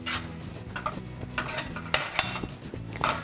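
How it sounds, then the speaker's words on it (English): Steamed green peas are stirred into cooked methi leaves in a pan, with soft scraping strokes and light spoon clinks against the metal repeating at an uneven rhythm, quiet and close. "Give it a stir."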